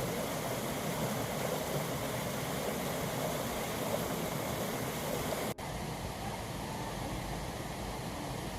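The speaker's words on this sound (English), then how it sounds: "succumb to the hypnotic sound of cascading water" Steady cascading water at Zealand Falls in the White Mountains, a continuous broadband rush heard close and unbroken throughout, with no voices.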